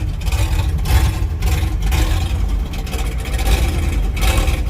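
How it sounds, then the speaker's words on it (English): A loud International truck engine runs with no exhaust system fitted, a steady, heavy low rumble that continues without a break and carries no speech. "there is no exhaust system on this truck yet. So, yeah, it's going to be loud."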